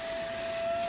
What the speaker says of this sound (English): sorry about the vacuum cleaner